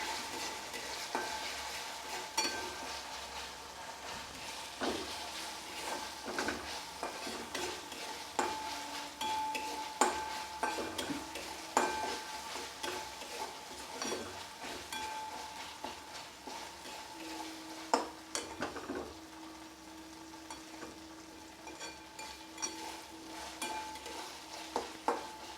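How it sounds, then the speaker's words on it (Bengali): Ginger-garlic paste sautéing in a pan for dal palong, a steady sizzle running throughout with repeated scraping stirs of a spoon against the metal, close and moderately loud, with no voice. "1 টিস্পুন রসুন বাটা দিয়ে এটা ভালোভাবে কষিয়ে নেব, যাতে আদা রসুনের কাঁচা গন্ধটা চলে যায়"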